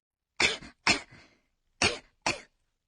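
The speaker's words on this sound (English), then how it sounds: "For a slight cough like this," Two pairs of slight, light coughs, close and clear, each pair a quick double burst separated by a short pause, with no other sound around them.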